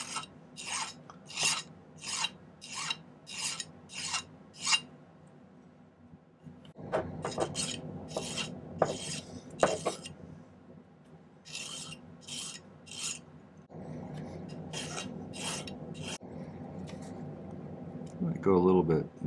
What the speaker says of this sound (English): I just need to file these so they taper down